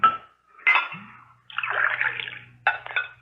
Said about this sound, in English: Pour me another glass of water, will you,